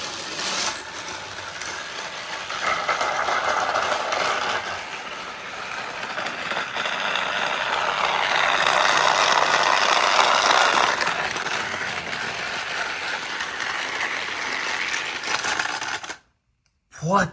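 A motorized Thomas toy Gordon engine runs along a plastic track with a steady close mechanical whir and clatter that swells and fades, ending in a brief silence.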